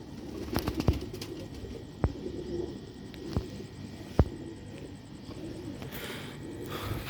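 Sialkoti pigeons give low, soft coos in a loft, broken by a few sharp taps and wing flaps, fairly close and steady.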